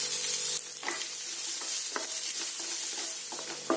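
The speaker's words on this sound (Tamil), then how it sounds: "ஒரு நிமிஷம் இது எண்ணெயிலே நல்லா வறுத்துக்கோங்க" Chopped onion fries in hot oil in a pan for poha upma, giving a steady close sizzle broken by regular scraping stirs of a spoon, with no voices.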